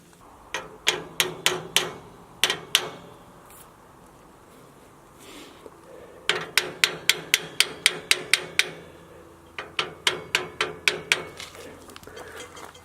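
A hammer lightly taps a piece of angle iron to level it under a Milwaukee pocket level, giving close, sharp metallic ticks in three quick bursts of about six to eight evenly spaced strikes, separated by short pauses.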